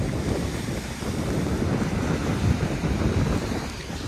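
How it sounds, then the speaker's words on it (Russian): Stormy Black Sea surf crashes onto the shore at Sochi under strong wind, a dense, continuous roar of waves and gusts with a louder surge midway and no voices. "Волны так и закидываются на берег."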